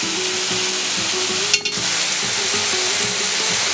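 Mustard seeds crackle and sizzle with cooking tomatoes in a pan, a continuous hiss under background music, broken by one sharp stirring clack midway.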